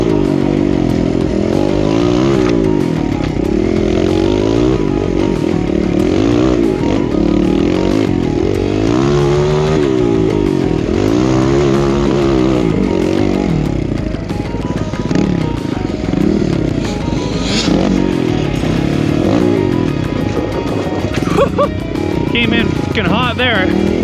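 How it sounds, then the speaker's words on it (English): Dirt bikes ride on a trail, one of them a big bore Kawasaki KLX, their engines revving and rising and falling in waves close by while a rider talks over the noise. "we'll hop in the lead here for a little bit, see if Luke can keep up to us on the big bore KLX."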